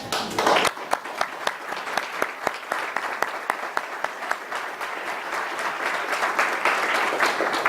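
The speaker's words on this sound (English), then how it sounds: "let's all applaud this group" An audience at the 2010 annual meeting of the Friends of Darien Library breaks into applause: dense, steady clapping that swells after a brief start and keeps going, close and full, with sharp individual claps standing out.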